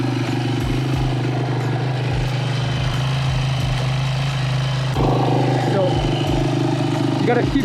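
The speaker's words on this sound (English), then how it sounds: "To start the bike, my bike has a kick lever, so you want to pull the kick lever out, step on it, and kick down." A kick-started dirt bike engine idles steadily nearby with a low, even putter while a person talks over it throughout.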